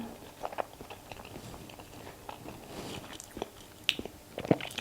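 Someone eats a large Monthong durian with a crisp outside and soft flesh, making close, steady chewing with soft wet bites and a few sharper crunchy clicks, with no talking.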